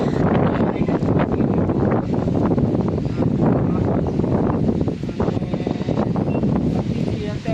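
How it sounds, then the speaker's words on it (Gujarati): Strong wind during a heavy rainstorm in a village buffets the microphone with a loud, continuous roar and rumble that barely lets up throughout. "ભારે આ પવન છે ચારે બાજુ"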